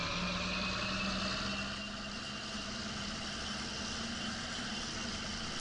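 Engine of a medium John Deere tractor in a farming video game, a steady mid-pitched idle that holds at an even level throughout, close and continuous with no talk over it.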